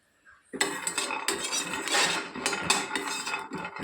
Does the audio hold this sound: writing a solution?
no